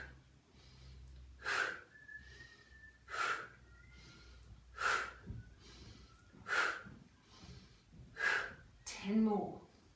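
Slow, deliberate breaths during a chair pilates workout: six strong inhale-exhale bursts arrive at an even pace about every second and a half, close and clear over a faint low background.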